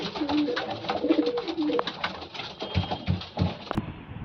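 Loft pigeons cooing close by, soft repeated throaty coos overlapping one another, with faint rustling and a few light knocks in the background.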